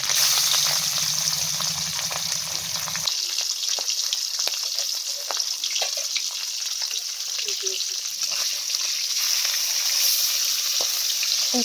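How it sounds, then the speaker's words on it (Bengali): Pieces of hilsa fish rubbed with turmeric and salt fry in hot oil, a loud, close, continuous sizzle with crackles and spits throughout, plus a low hum that cuts out after three seconds. "মাখানো হয়ে গেলে গরম তেলের উপর দিয়ে দিল মাছটিকে।"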